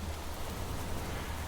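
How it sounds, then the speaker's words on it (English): Steady rain falls inside a house in the survival video game The Planet Crafter, a dense, even hiss of drops with a low rumbling bed, continuous and close. "it should not be raining inside the house"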